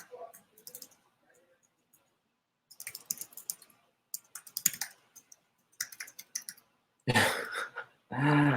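Computer keyboard typing in short bursts of clicks during a business discussion, separated by pauses, with a cough and throat clearing near the end; close and moderately loud.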